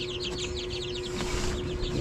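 Chickens cluck and chirp in quick bursts near the microphone, one of the flock weak and listless, with a steady electrical hum running underneath.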